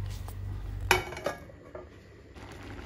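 Egg aviyal stirred in a metal pot: a few soft clinks and scrapes of a spoon against the pot, with a sharper knock near the start, fairly faint and close, no talking.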